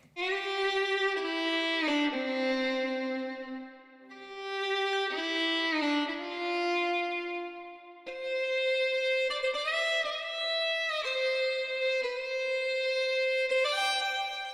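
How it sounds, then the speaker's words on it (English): Sustained fiddle sample notes for a pop country track glide and slide between pitches in a bowed melody, loud and continuous with brief dips between phrases, no voices. "And so I ended up finding these fiddle samples, and they sound like this"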